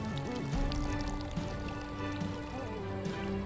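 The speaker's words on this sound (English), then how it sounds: "Now let us fill the containers with water, hot water," Hot water pouring into a container, a steady soft liquid fill with shifting gurgling tones, faint and continuous throughout.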